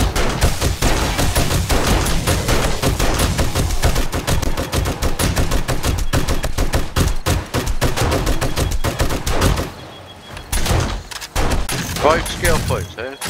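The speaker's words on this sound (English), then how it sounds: "So we keep on shooting in the chest." Loud, rapid gunfire from the zombie survival game 7 Days to Die, in dense automatic bursts that dominate nearly throughout, pausing briefly before resuming.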